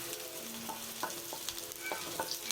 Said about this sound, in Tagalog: Salang na natin ang sibuyas. Ayan. Nakikita nyo naman, talagang lumalagitik.